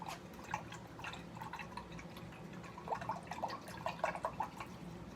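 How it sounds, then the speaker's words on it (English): Water dripping from a paintbrush onto the ground, a quick irregular patter of small drips, close and soft, with brief clusters of splashes. "Oh man, I'm getting water on the ground."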